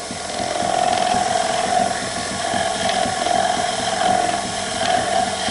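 A sharp chisel cuts a wooden chess knight spinning on a lathe, making a continuous close whirring hum with rhythmic scraping and chattering, and no one speaks.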